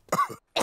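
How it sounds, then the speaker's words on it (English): A single short cough from a cartoon character, close and fairly quiet, followed by the start of another. "All the grown-ups have caught Pedro's cough."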